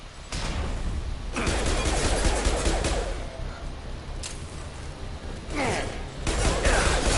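Sustained gunfire from a firefight in the video game Mass Effect 2, dense bursts of shots rolling continuously with louder volleys near the start and end, with faint voices mixed in.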